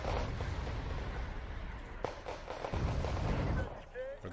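Artillery fire in the war strategy video game Wargame: Red Dragon, a dense rumbling barrage of distant booms with a sharp crack partway through, heard at low volume.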